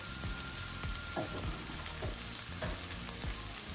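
Ground coriander and Kashmiri chilli powder fry in a pan for beef biryani, a dense continuous sizzle with repeated stirring scrapes at an uneven rhythm, close and moderately loud, with no talking.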